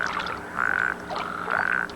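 Desert toads, newly awake after months underground, croak loudly and close by: two long, steady trilling calls in a row, with fainter chirps and croaks from others between them.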